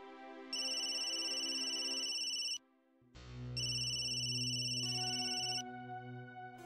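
An electronic telephone ringtone plays while an outgoing call is placed in a Marathi TV serial, with two long, bright, even tonal bursts separated by a short gap, loud and clear without talking.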